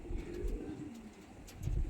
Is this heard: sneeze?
no